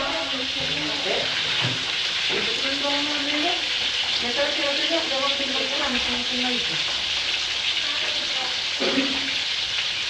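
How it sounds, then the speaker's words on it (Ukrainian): Continuous crackling sizzle of fish frying in a pan in a Fijian kitchen, with faint voices and clattering in the background. "на фіджійській кухні варяться яйця і смажиться риба"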